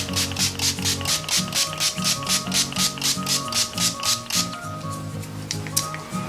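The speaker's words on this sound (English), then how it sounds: "It's a matte setting spray." A bottle of matte makeup setting spray rattles in a rapid, rhythmic shake for several seconds, followed by a few quick hissing sprays up close.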